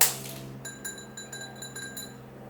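A glass object is tapped or clinked several times in a row, giving bright ringing chimes in a quiet room over a low background hum.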